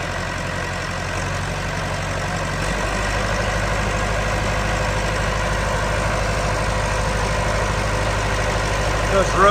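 A 1993 Vermeer 1250BC brush chipper engine fires up partway in and settles into a steady, loud, low diesel idle heard up close.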